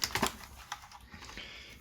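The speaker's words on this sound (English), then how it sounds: "we can flip the keyboard over" A Logitech G910 mechanical keyboard is flipped over during repair, giving a few quick close plastic clacks and knocks at the start followed by lighter rattles and handling noise.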